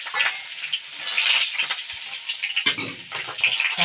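Mustard seeds fry in hot sesame oil for lemon pickle, giving a loud, close, continuous sizzle with crackling pops and a brief stirring scrape.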